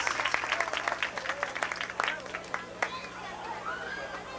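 Lively crowd applause at a 1993 São Pedro festival talent show, a burst of clapping that fades toward the end while voices chatter in the background.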